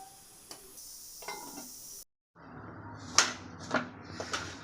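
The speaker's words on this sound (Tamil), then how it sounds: "இது எல்லாத்தையும் மிக்ஸ் பண்ணிவிட்டு மூடி வச்சிடலாம்" Sambar rice being mixed in a pot, with a few scraping stirs and soft clinks of the spoon against the metal after a brief pause, close and fairly quiet.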